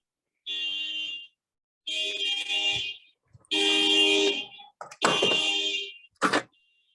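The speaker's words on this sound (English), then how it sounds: "I don't know if you can hear the honking," Car horns honk outside in a series of separate blasts, some long and steady, others short, with silent gaps between them and a final quick toot.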